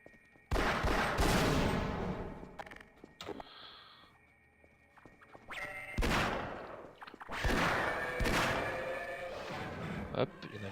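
Handgun fire in a video game, several loud sharp bursts separated by quieter stretches, with game effects in between.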